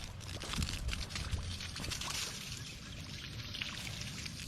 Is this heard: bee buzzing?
no